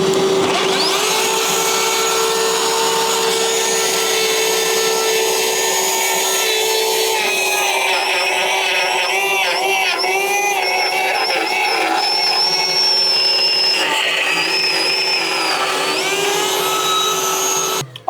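Ryobi router cutting into wood with a shop vacuum running, a loud, steady, close whine that holds for the whole stretch, with the pitch shifting slightly as the bit bites, and no talking.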